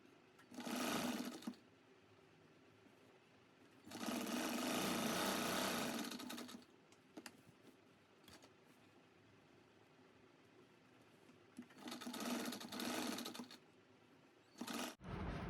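A sewing machine stitches the centre seam of a salwar in three separate bursts of steady motor whirring, close and fairly loud, with quiet clicks and handling sounds in the pauses between runs.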